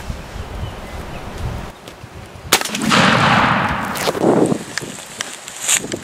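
A loud shotgun blast rings out on a Michigan wild turkey hunt, one sharp near report among rustling outdoor sounds, then wind and faint movement.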